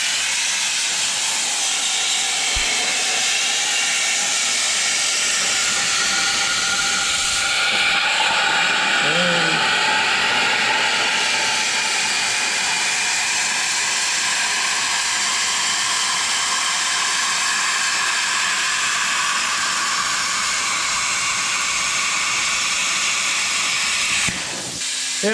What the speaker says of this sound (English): use this plasma cutter, uses air, compressed air, and electricity to cut metal